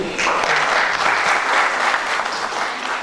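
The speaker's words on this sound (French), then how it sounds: "il faut l'applaudir si vous voulez" Steady audience applause fills the hall at a North African micronutrition congress debate, a dense, even wash of clapping lasting about three seconds with no break.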